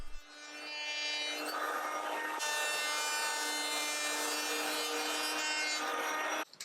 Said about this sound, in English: I used my hand planer to shave off a little bit from the top